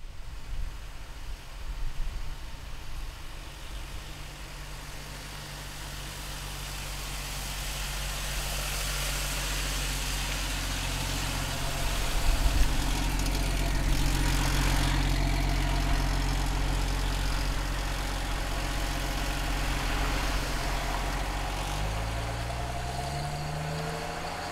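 A 1977 AMC Gremlin's engine runs at a low steady idle and then pulls away, a continuous deep rumble with rising revs near the end, heard from inside the car.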